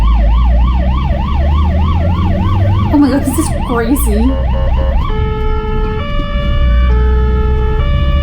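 Ambulance siren wailing through traffic in Poland, loud and close, sweeping up and down then switching to a different steady two-tone pattern, with road noise beneath and a person exclaiming over it.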